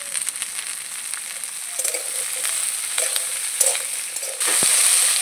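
Vegetables sizzling in a pan for rice and meat, a steady close frying hiss with occasional stirring scrapes, growing slightly louder near the end.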